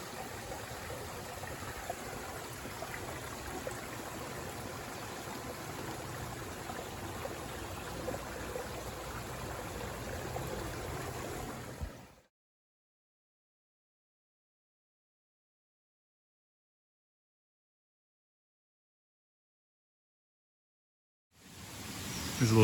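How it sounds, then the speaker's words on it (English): Steady broadband rush of a small waterfall spilling from a beaver pond outlet, constant and fairly close for about twelve seconds, then cutting to silence before the flow briefly returns. "A little waterfall action, I think."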